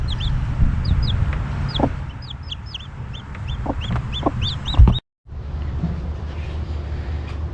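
A hen clucks among newly hatched chicks, whose high, repeated peeping runs through the scene alongside low clucks and a few knocks, close and fairly loud, broken by a short dropout near the end.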